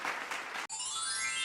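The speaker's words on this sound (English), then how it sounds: "Clap your hands." Applause from a children's phonics lesson, a short burst of clapping that ends abruptly and is followed by a bright chime.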